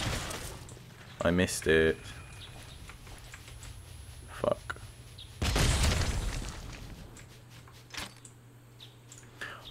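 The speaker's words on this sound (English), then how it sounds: "Let's see how the grenade launcher does." A grenade launcher fires in the video game CryoFall: sharp mechanical shots are followed by a loud, broad explosion that booms and decays, with a voice speaking briefly and other quieter game effects around it.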